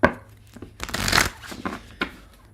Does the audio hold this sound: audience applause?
no